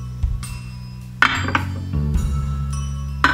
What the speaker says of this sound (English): you want to go ahead and place all of these into pan